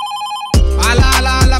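A telephone ring effect set into a Marathi hip-hop song, a bright electronic trill that cuts in abruptly and repeats in quick pulses over a thumping beat.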